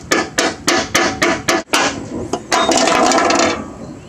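Metal tool chipping rust off a steel push-mower deck: a rapid series of sharp, close impacts at a steady beat, then a rough scraping rasp, loud with no talk.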